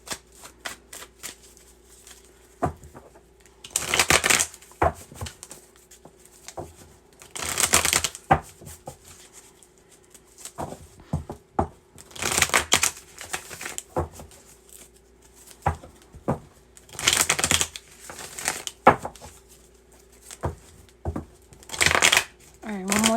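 Tarot cards shuffled by hand in repeated rounds: close riffling bursts of flicking and pattering separated by short pauses and scattered taps, with no speech.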